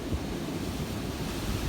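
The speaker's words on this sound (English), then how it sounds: "Just about as good of a south wind event as I can remember in recent history." Strong south wind during a thunderstorm roars steadily against the microphone, a dense low rumble with slight gusting swells and no voices.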